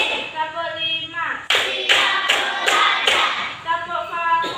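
A class of children in an Indonesian school lesson claps in rhythm, with about five sharp, evenly spaced claps coming between chanting voices.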